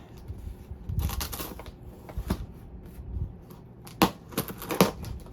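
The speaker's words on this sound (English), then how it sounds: "Packing peanuts everywhere." Packing peanuts rustle and crinkle in light plastic bursts while a model railroad car is unboxed, with a few sharper crunches near the end. The scene is close and fairly quiet, and nobody speaks.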